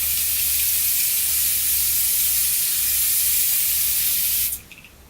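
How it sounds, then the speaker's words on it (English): Caudalie grape water face mist sprayed in one long, close, steady hiss for about four and a half seconds, then cutting off abruptly. "I'm obsessed with this Caudalie spray."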